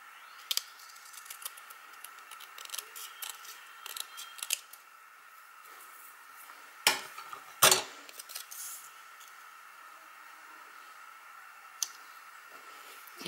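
Scissors cut straight across craft paper for a handmade interactive card. Soft, close snips and clicks are scattered through a quiet room, with a few sharper, louder cuts standing out near the middle and no talking.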